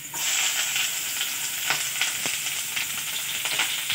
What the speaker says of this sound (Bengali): রসুন কুচির পর আদা কুচি দিয়ে দেবো।